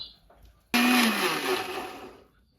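An electric kitchen mixer grinder whirs into life after a quiet moment, grinding grated coconut in a loud close motor whine that slowly eases off.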